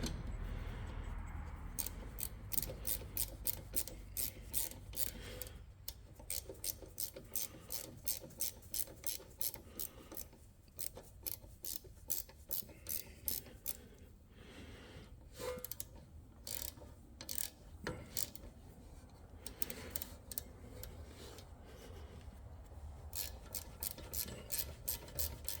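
Ratchet wrench snugging a rear brake bolt on a 2016 Dodge Caravan during a brake replacement, giving long runs of rapid, close clicking that stop and restart several times.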